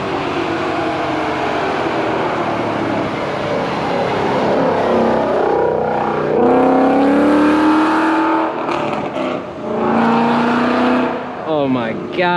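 A New Edge Ford Mustang with a Coyote V8 roars past at close range, its pitch climbing and falling as it accelerates and recedes, with a second revving pass near the end.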